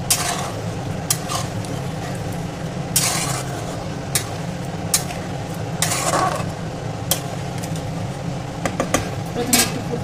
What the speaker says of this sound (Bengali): এবার ভালোভাবে আমি জলটার সঙ্গে মশলাটাকে ভালোভাবে মাখিয়ে নেব